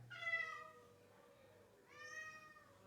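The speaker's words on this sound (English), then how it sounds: "Don't know what the cat wants." A cat lets out two drawn-out meows about a second and a half apart, fairly faint and close-sounding, in a quiet room with no one talking.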